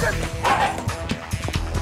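A puppy yips and barks in quick, high-pitched bursts, fairly close and loud, with a whimpering edge and voices overlapping in the background.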